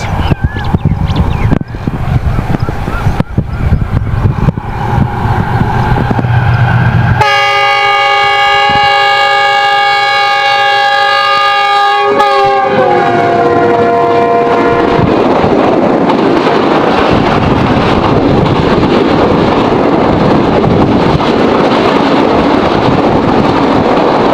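The Karakoram Express rumbles loudly past up close, sounding a long steady multi-tone horn blast midway, then fades into a broad rushing roar of wheels and wagons.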